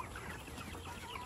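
Three-month-old Rhode Island White heritage chickens cluck softly on a farm, a short, steady murmur of several birds at low volume with no talking.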